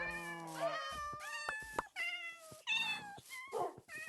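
A series of clear, loud meows from a couple of Minecraft cats, drawn-out and pitch-bending cries following one another closely with no talking.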